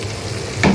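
A tadka of hot oil and spices for kari pakora hisses briefly in a kadhai, a short loud sizzle flaring at the end of a steady frying crackle.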